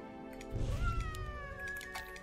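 A cat unit in the video game Legion TD 2 gives a single drawn-out meow that rises and then falls, clear and fairly loud over steady game background sound, with no talk.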